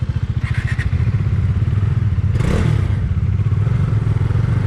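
Bajaj Dominar motorcycle starting on a Sri Lankan roadside, the starter chugging before the engine catches and settles into a loud close idle with a brief blip of revs.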